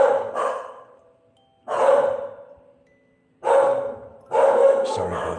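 Several dogs barking in bursts nearby, loud woofs arriving in three or four separate clusters with quiet gaps between them.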